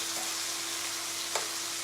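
Chicken browns in a hot pan for a korma, giving a constant, gentle, hissing sizzle at low volume with a faint steady hum underneath and one small clink partway through.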